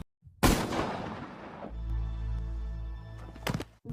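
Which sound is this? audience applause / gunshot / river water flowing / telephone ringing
gunshot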